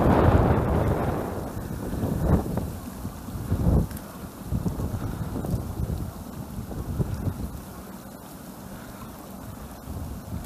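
Strong, gusty spring wind roaring across a pond during spin fishing, buffeting the microphone in loud rumbling surges with a constant rushing background and no speech.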